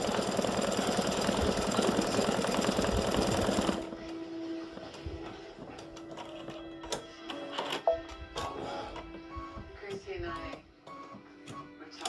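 A home embroidery machine stitches a freestanding lace snowman design, its fast rhythmic needle chatter loud and steady before stopping abruptly, leaving a quiet room with faint handling clicks and a low hum.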